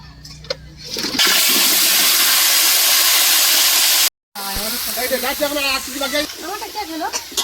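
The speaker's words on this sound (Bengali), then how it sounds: "এবারে আলু ভাজা হবে।" Potatoes drop into hot oil in a wok on a large stove and set off a loud, roaring sizzle. The sizzle cuts off briefly, then goes on more softly while people talk nearby.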